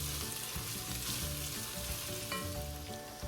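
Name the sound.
peppers, onions and celery frying with bacon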